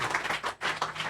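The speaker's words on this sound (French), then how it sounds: "Dales un aplauso al Señor si tú Alléluia. puedes en esta Donne hora." Church congregation clapping together in a brief burst of applause, rhythmic and fairly close, lasting about a second.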